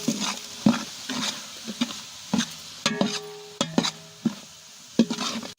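Tomatoes sautéing with ginger and garlic for vegetable biryani: repeated stirring scrapes and soft sizzling in a pan, irregular bursts close by, with no talking.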